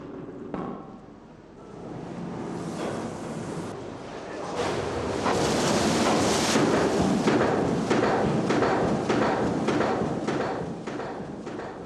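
A water-powered trip hammer in a traditional ironworks forge strikes hot iron, making rapid repeated rhythmic thuds over a loud rushing water roar that swells and stays steady.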